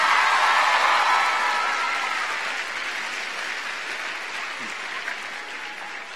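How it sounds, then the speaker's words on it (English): A school assembly audience claps together in a loud, dense wash of applause that starts strong and slowly thins and quiets over several seconds, with no talking over it. "clap your hands right now"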